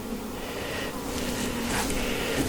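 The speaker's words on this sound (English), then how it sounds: "Look at the yellow bees." Honey bees in a mating nuc hum with a dense, continuous buzz, close and steady throughout with no voices over it.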